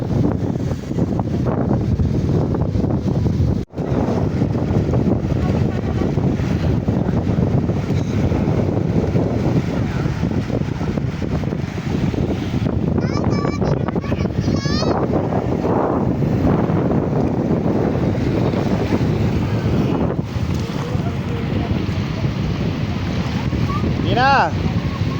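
Strong afternoon wind blows at the seaside, roaring steadily into the microphone for the whole stretch alongside broad wave and surf wash, loud and continuous with a brief dropout early on.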